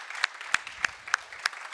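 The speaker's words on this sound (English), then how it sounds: "let's give a big round of applause to everybody that's volunteering today, speaking today" Small conference audience applauding volunteers and speakers at a security event, sparse individual claps standing out sharply over a thin, scattered clapping bed, fairly close and brief.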